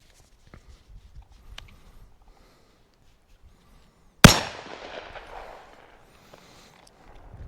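A single loud shot from a Bond Arms Blackjack handgun cracks out close and sharp midway through, then rings off in a decaying tail, with only faint shuffling before it and no talking.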